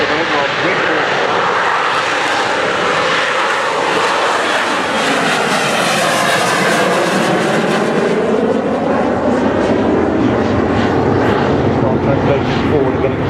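A Harrier jump jet takes off on a short roll at the Farnborough Air Show, its engine a loud, continuous roar that holds steady throughout while a commentator talks over it.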